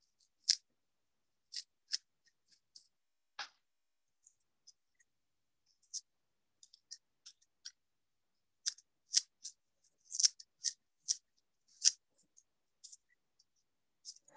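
Sharp scissors snip bucktail hair during fly tying of hair bugs, a sparse, irregular run of crisp, close clicks and cuts separated by quiet pauses.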